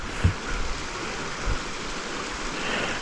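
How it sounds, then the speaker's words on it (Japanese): Broadband rushing water of the Yoppi River stream in Oze, Japan, flowing steadily near a suspension bridge, with a few low thumps early on and no voices. "これよっぴ川なんですけど"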